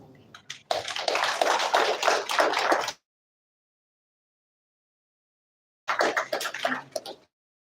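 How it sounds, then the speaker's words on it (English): Audience applause after a presentation at a Nigerian agricultural leadership event, two bursts of dense, loud clapping separated by a few seconds of silence. "Please, can we give him another round of applause?"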